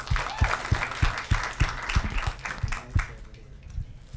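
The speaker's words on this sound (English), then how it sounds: "so everybody, again, another round of applause" An audience at a panel discussion applauds, a dense burst of clapping from a crowd that holds steady for a few seconds and then trails off.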